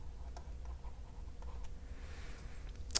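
An equation written out by hand, faint light scratching strokes with a few soft taps over quiet room noise, ending in a brief sharp click.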